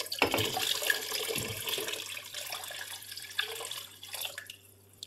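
Another litre of water poured into a pot of beef yakhni pulao, a close, continuous splashing stream that thins and trails off into drips near the end.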